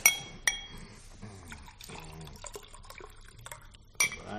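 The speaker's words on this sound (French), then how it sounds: "Ce grand verre d'eau. De l'eau bien fraîche." Glass clinks sharply a few times, with water pouring and gurgling between them as a big glass of cool water is filled, close and moderately quiet.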